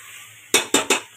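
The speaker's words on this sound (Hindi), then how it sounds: "तो चलिए बस अभी से थोड़ा मसाले के साथ भूनने देंगे" Paneer frying with spices in a pan as a utensil stirs it: after a quiet moment, three quick, loud metallic clanks of spoon against pan, close by.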